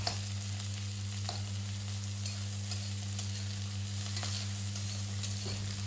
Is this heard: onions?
yes